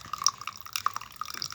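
Boiling water trickles into a drinking glass in a home kitchen, making soft drips and small glassy clinks, quiet and close, with no talking.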